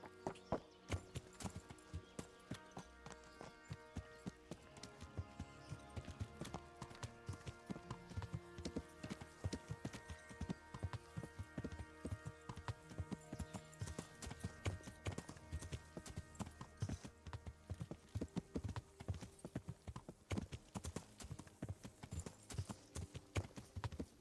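Horse hooves clip-clop steadily and close while riding around Talmberg in the medieval game Kingdom Come: Deliverance, a brisk continuous rhythm over faint ambient layers with no talking.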